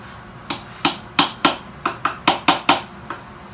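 Light hammer taps on a wooden guitar neck tenon, about ten crisp close knocks in an uneven rhythm, some in quick pairs, with quiet gaps between.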